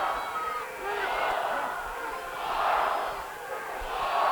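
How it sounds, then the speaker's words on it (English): A rugby crowd roars for the home side Toronto Arrows against the Seattle Seawolves, a broad, sustained wall of cheering and shouting that swells and dips throughout, loud and enveloping. "The crowd, they're well and truly behind their home side."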